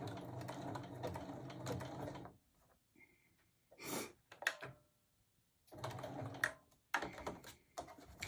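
Sewing machine running a blanket stitch in short bursts, a rapid mechanical chatter that starts and stops with quiet pauses and soft handling noises between runs.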